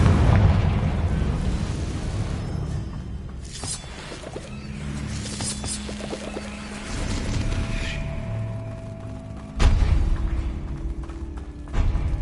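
Fiery spell blasts in Hogwarts Legacy, a run of booming explosions and thuds over a busy game soundscape, with a sharp loud burst near the end.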